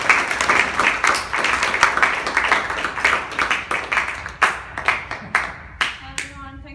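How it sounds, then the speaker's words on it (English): Audience applause at a poets' open mic night, a dense burst of clapping that thins into scattered individual claps before a speaker begins talking at the end. "Give her a big round of applause."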